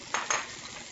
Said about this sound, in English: I'm going to use the rendering from the duck now to cook the pasta in, the garlic, and the mushrooms as well